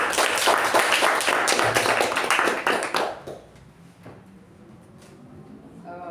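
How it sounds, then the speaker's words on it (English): A Toastmasters meeting audience claps in a dense, steady burst of applause for about three seconds, then it trails off into a quiet room with scattered faint sounds. "So can we have a round of applause for Toastmaster Pavani?"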